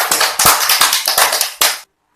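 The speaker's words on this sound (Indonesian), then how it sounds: "Beri tepuk tangan ya" Students in an Islamic elementary school fiqh class clap their hands together, a brief ragged burst of close applause with rhythmic slaps that stops abruptly.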